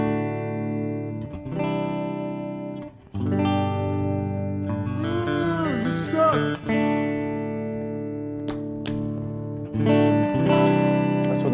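Clean electric guitar through a Line 6 Pod Express on its Fender Princeton Reverb model, played with a humbucker pickup: sustained chords and ringing notes with a few bends, smooth reverb tails and brief pauses between phrases, no talking.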